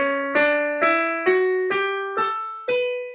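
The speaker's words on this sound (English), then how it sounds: "If it was a minor scale," Piano playing a minor scale, seven single notes struck one after another at an even, moderate pace, each ringing clearly and decaying before the next key, with no talking over them.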